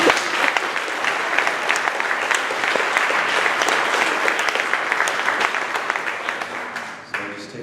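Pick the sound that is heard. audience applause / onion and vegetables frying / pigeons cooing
audience applause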